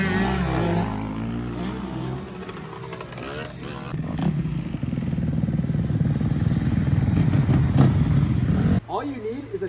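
Dirt bike motorcycles rev and pass at a moto academy riding class, their engines rising and falling, with a rider's voice talking over the engine noise.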